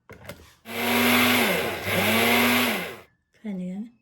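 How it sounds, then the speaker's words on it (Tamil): A mixer grinder grinding cinnamon bark into powder in two loud whirring runs, its motor winding up and then dropping as each run ends, followed by a short third burst. "நாங்கள் பட்டை அரைப்போம் மிக்சியில் போட்டு"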